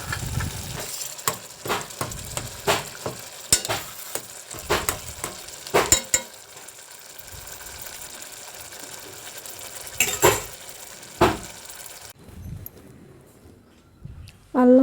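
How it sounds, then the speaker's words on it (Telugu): Ginger and garlic pounded with a mortar and pestle, producing a run of sharp, irregular close thuds that pause midway and then resume, with faint talk nearby. "అల్లము చిన్నులపాయ దంచుకుంటున్నానండి."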